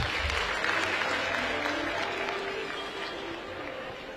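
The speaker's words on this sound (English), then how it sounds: "Clap for yourselves." A graduation ceremony audience at Kampala University claps in a broad continuous roar of applause, dense and fairly distant, slowly tapering over four seconds with murmuring voices beneath.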